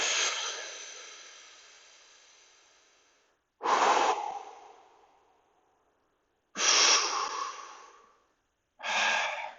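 Deep breaths during a hip stretch, each a loud airy exhale that rushes in abruptly and then trails off over a couple of seconds, four separate breaths with silent gaps between them and no talking.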